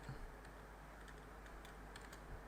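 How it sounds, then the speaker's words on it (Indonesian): Quiet, fast computer keyboard typing: a steady run of light key clicks, close and alone with no voices. "Kita ketikkan"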